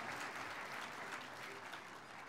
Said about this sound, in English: can we thank all the veterans who are here as well? Let's give them a round of applause.